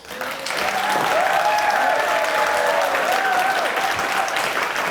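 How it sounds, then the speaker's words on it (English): A large audience at a NHS keynote event breaks into a loud, sustained round of applause that builds quickly and holds steady for several seconds, with faint cheering mixed in. "I want to see a big round of applause"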